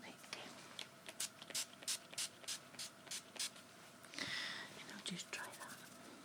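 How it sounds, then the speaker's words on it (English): Revolution makeup primer is sprayed in a run of short, close, crisp bursts and then one longer hiss, with soft whispering between the sprays. "I'm going to prime you with this Revolution spray."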